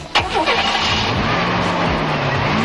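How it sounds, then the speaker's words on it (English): A 1992 GMC Syclone pickup's turbocharged, intercooled, port fuel-injected Vortec V6 cranks and fires, then settles into a steady close idle with a low, even hum. "GMC has stuffed a turbocharged, intercooled, and port fuel-injected Vortec V6 in the engine room that throbs out an"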